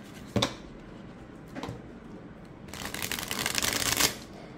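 A tarot card deck, the Meraki Tarot 2nd Edition, is riffle shuffled close by: two short crisp snaps, then a longer fluttering burst of cards interleaving that ends in a sharp final snap.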